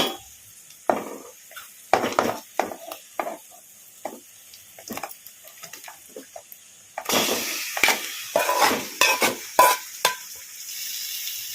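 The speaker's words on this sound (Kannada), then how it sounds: "ಈಗ ಒಂದು ಸ್ವಲ್ಪ ಹೊತ್ತು ಹೈ ಫ್ಲೇಮಲ್ಲಿ ಇಟ್ಕೊಂಡು ಚಿಕನನ್ನು ಈ ಥರ ಕಲಿಸ್ಕೊಂಡ್ಬಿಡೋಣ." Marinated chicken stirred in a pan over a high flame, with intermittent scraping strokes of a spoon against the pan and a light sizzle that swells louder and more continuous toward the end.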